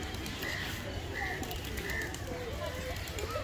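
Pigeons coo softly and repeatedly at Chittagong zoo, their low calls recurring beneath people talking nearby.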